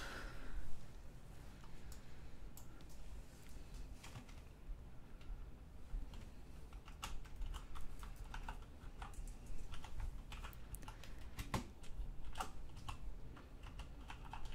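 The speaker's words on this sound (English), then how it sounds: "It's so hard typing with one hand." Computer keyboard typed with one hand: irregular, close key taps in uneven bursts over a faint fan hiss, with no talking.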